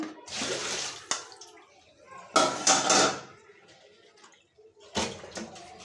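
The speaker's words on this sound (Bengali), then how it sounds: "নিয়ে যাচ্ছি রান্নাঘরে সিঙ্কে এখানে আরও কিছু আছে ধোয়ার জন্য এগুলো ধুতে হবে" Dishes are washed in a kitchen sink: bursts of running water, splashing and clattering pots between quieter gaps, up close.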